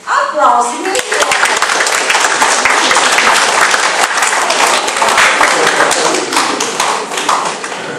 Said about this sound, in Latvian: Aplausi, mīļo!